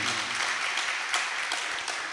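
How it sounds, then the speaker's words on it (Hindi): An audience applauds during a Jain religious discourse, with steady, dense clapping from many hands in a large room, continuous and even throughout at moderate loudness. "ताली नहीं बजाओ"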